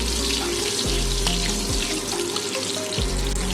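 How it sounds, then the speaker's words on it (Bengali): Water pours in a steady gushing stream into a pan of tempered oil for a Bengali katla fish curry, a loud continuous splash and rush over a low hum, with no voices. "এবারে দিয়ে দেবো জল মাছটা যেমন রাখবেন তেমন জল দেবেন"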